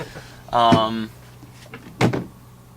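A drawer is opened on a bus: one long sliding scrape, then a sharper knock a moment later, close and fairly loud.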